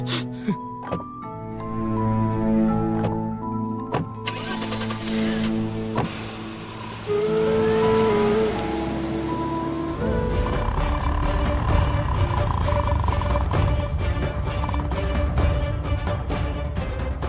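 A car pulls away in a tense roadside scene after an accident, its low engine rumble rising and holding steady after a stretch of dramatic music, with no talking.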